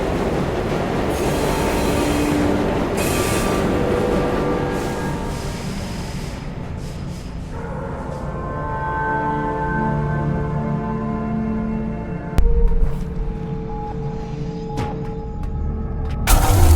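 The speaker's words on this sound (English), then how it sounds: "We have reached the end of the line where this train will terminate." A train pulls into a terminal station in the video game Luna Abyss. The loud rolling rumble fades as it slows, followed by squealing and hissing brakes and a sharp clunk as it comes to a stop.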